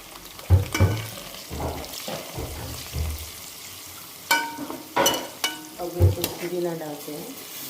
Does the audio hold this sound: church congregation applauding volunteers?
no